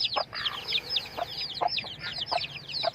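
A broody hen with a new clutch of hatched chicks clucks in short, spaced bursts against a steady chorus of high, shrill chick peeping, heard close up.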